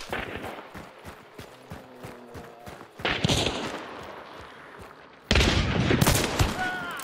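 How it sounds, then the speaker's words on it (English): Dense bursts of gunfire in a shooter video game, rapid volleys that swell louder midway and again near the end, with a voice talking faintly underneath. "Are they fighting someone or just shooting like weirdos, man?"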